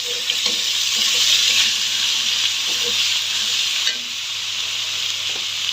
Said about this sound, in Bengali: এখন খুব ভালোভাবে আমি মশলাটা কষিয়ে নেব।